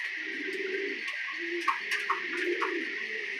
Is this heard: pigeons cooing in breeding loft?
yes